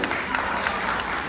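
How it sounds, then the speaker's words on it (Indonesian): Guests at a hijab brand's first gala dinner with an Arabian Nights theme clapping briefly, a soft, even patter of applause from the room with a voice faintly underneath. "Tepuk sikit"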